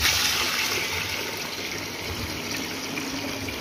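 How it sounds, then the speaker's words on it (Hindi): Water poured into half a kilo of masoor lentils in a cooking pot, a rushing splash that starts strongest and settles into a steady gurgling flow. "ये हमने पानी डाल दिया इसमें,"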